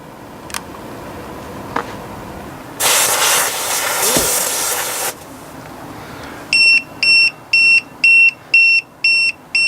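A tire pressure monitoring system's low-pressure alarm beeps in a steady run of short, loud, high electronic tones, following a burst of hissing air and a few clicks.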